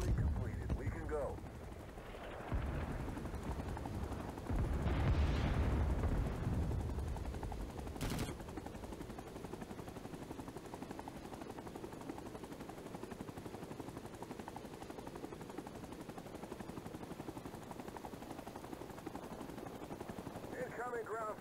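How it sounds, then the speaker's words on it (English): Gunfire in the Vietnam War video game Rising Storm 2 Vietnam, with a loud burst of shots near the start, then a sustained rumble of rotor noise and distant firing under radio-style voices. "Incoming ground fire."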